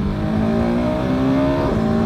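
Husqvarna 701 Supermoto 2023 supermoto motorcycle being ridden, its single-cylinder engine holding a steady droning note with a slight rise in pitch, loud and continuous with no talking.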